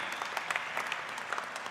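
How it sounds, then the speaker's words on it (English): Audience applause at the 13th Bharatiya Chhatra Sansad student parliament event, a steady wash of many hands clapping at moderate distance, even and sustained for the whole stretch. "A big round of applause,"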